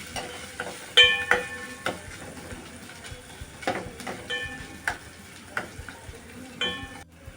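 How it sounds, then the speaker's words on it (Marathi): Chopped onion and green chillies frying in oil in a pan for palak dal, soft sizzling under irregular stirring clinks and scrapes of a spoon against the pan. "तो पण टाकून घेऊ आणि कांदा पण भाजून घेऊ आपण मिरची घेतली आहे ती पण टाकून घेऊ"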